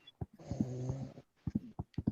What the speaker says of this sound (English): Who was that snoring?